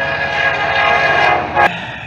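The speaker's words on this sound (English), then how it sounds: "here comes a train" A train rumbles past near a bridge with a loud, steady drone and a tonal horn-like hum, ending in a brief sharp clank, with no talk.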